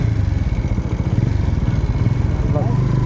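A motorcycle carrying a rider and passenger near Balkot chowk, its engine rumbling steadily and close for the whole stretch with a pulsing low throb, and voices talking faintly over it.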